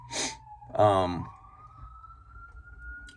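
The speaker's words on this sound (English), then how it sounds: "Pardon the siren." An emergency siren wails in the background, a tone sliding and rising, heard briefly with a voice and some nearby noise.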